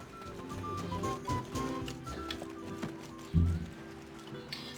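Hooves of a donkey named Kamiko clip-clop along in Black Desert Online, a steady walking beat with a louder thump near the end, over soft game ambience.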